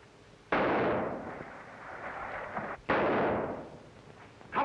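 Gunfire from a boat at the docks sounds as two loud, booming blasts, each trailing off into a long rumbling decay, with no talk.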